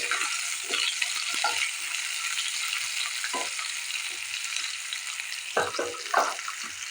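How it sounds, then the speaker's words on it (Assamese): Chopped large onion frying in a pan for red lentil dal, a steady hiss of sizzling with occasional stirring scrapes and clicks, close and moderately loud. "পিঁয়াজখিনি অলপ ভাজি হওঁতে"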